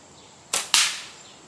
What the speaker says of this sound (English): Ooh, Ethan, I like the way that shot looked. think that was dead on line, maybe a touch low